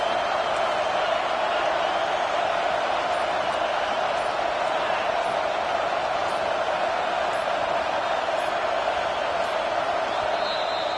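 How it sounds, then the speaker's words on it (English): A stadium crowd at a football game keeps up a dense, continuous roar on third down, loud and unbroken, rising behind the defense with no clear individual voices. "Decibels rising as the crowd gets behind this defense on 3rd down."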